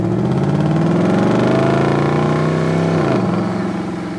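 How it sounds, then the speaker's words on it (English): A Mercedes SLS AMG engine recorded close to the exhaust, a loud sustained tone that climbs in pitch, holds, then drops sharply near the end as the revs fall away. "we hook up a microphone near the exhaust to get some beautiful engine sounds like this"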